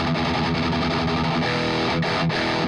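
A heavily distorted electric guitar through a Harley Benton DNA Amp20 practice amp playing dense, sustained metal chords, loud and continuous with a fuzzy, saturated tone.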